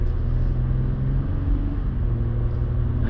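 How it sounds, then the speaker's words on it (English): A new car accelerates with a steady, loud engine rumble from inside the cabin. No talking is heard. "Give it some gas. Let's see what you got."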